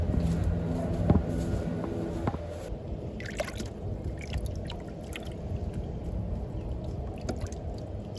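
Water trickling and dribbling as it is steered through a pipe toward a persimmon tree in an aquaponics garden, a soft continuous flow with scattered drips and splashes, fairly close and moderately quiet.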